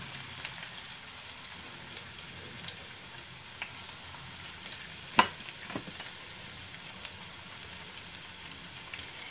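Red onion frying in oil in a pan for a vegan Biscayne-style sauce with Brussels sprouts, a steady soft sizzle with faint crackles and one sharp pop midway, no voices.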